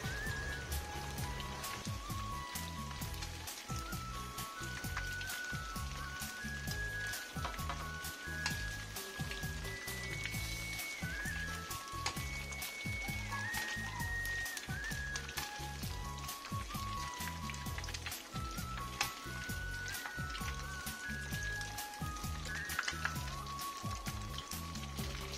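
Tofu deep-frying in a pot of oil until golden for a vegetarian hu tieu noodle soup, a dense steady crackling sizzle with rapid popping, continuous and close, with no talking.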